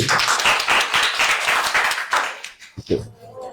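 An audience at a children's drawing competition at a coaching centre claps in a quick burst of dense applause that fades out after a couple of seconds, followed by voices.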